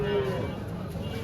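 A heifer at a cattle market in Faridpur gives a short, fairly close moo at the start, then the sound falls back to a murmur of market noise and faint voices.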